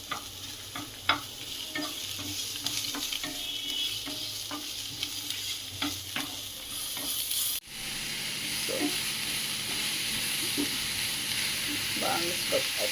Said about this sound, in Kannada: ಅದು ಫ್ರೈ ಆಗೋವರೆಗೂ ಚೆನ್ನಾಗಿ ಉರಿಬೇಕು